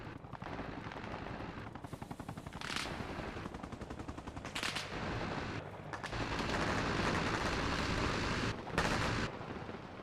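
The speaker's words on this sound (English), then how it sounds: "It definitely sounded like a PKM firing from this direction." Machine gun fire in the video game Arma Reforger, with long sustained bursts of rapid automatic shots, loud and dense, broken by short gaps and sharper cracks, with no voices.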